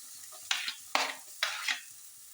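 Shallots sauté in hot oil for Kerala-style rasam, with three close bursts of loud sizzling hiss as they are stirred, each fading quickly between strokes, and no one talking.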